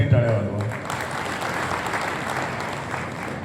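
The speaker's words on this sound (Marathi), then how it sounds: "पुन्हा एकदा जयंती उत्सव समितीसाठी टाळ्या वाजवा" Sustained applause from a crowd at a Jayanti festival gathering in Loha, honoring the festival committee, steady and dense for several seconds after a brief voice at the start.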